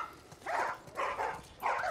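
Dogs bark in the video game The Last of Us Part 1, three muffled barks at even intervals, at moderate distance.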